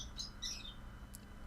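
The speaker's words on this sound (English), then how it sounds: "the birds are going crazy" Birds outdoors give a few high, faint chirps and tweets in short bursts over a quiet low rumble.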